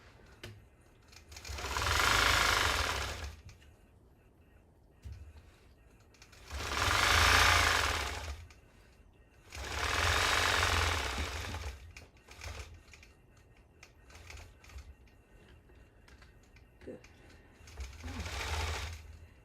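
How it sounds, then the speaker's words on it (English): A longarm quilting machine stitching in loud, sustained bursts of rapid needle chatter, about four runs separated by quieter pauses, close up with no talking. "what I like to do when I'm quilting is just stitch over that just a little bit"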